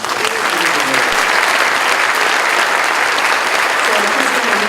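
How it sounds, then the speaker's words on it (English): Steady, dense applause from an audience at a high school alumni band concert, loud and continuous throughout with no pauses. "So please give him another round of applause."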